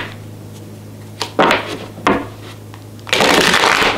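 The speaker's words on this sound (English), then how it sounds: "These cards are so hard to shuffle." A deck of tarot cards is shuffled close up in a few quick riffling bursts, with a longer, louder shuffle at the end.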